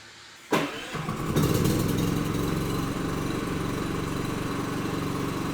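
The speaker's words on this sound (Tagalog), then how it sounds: "dapat kung saan mabubuhay yung ating generator" A home backup generator cranks and fires up after a power outage, a short starting burst followed by a steady, loud, continuous engine drone that settles into a constant run, with no talking.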